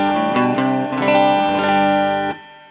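An electric guitar played through a pedal with its drive switched off rings out several sustained, clean and slightly dull chords in close succession, loud and upfront before fading at the end.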